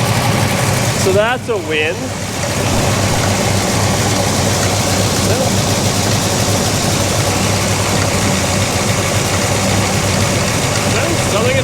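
A big block Chevy engine fitted in a Pontiac idles with a steady, loud, low rumble throughout, while someone talks briefly over it.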